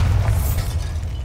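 A Bombarda blasting spell goes off in Hogwarts Legacy, a loud, dense booming burst with heavy low rumble that holds steady through the whole short moment.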